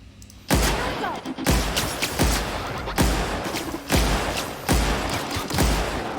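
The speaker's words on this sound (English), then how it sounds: "It's an energy gun, so maybe it'll do better against the mechanicals" Energy gun fired at robotic enemies in The Outer Worlds, a loud, punchy blast repeating roughly once a second, six or seven shots in a steady rhythm with short ringing tails between them.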